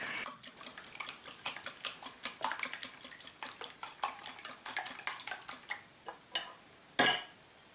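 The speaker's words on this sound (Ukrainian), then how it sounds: "Яйця перетворюємо на суміш, якою будемо заливати наш грибний пиріг." Eggs being whisked into a mixture for a mushroom casserole, with a utensil ticking quickly and steadily against the bowl, close and clear, then slowing into a few separate louder clinks near the end, with no talking.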